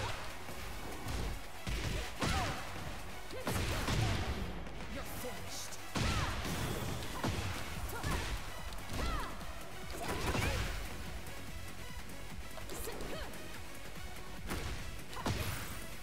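Fighting blows land against Xiao Yu in Tekken 8, a dense run of loud smacks, thuds and crashes that arrive in rapid irregular bursts amid game music and effects, with a voice talking over part of it.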